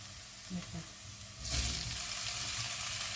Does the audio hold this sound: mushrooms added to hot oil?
yes